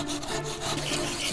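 A saw rasps back and forth through a Korean dendropanax tree branch in quick, rough strokes, close up and steady for about a second.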